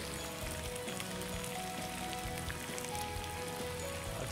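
Corn sticks deep-frying in hot oil give a steady, soft crackling sizzle that continues without pause, close up and fairly quiet, with no talking.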